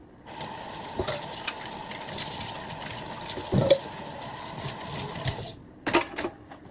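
Dishes being washed at a kitchen sink with a tap running steadily, water splashing and a few clinks and knocks of utensils, close by; the flow stops near the end before a couple of brief clatters.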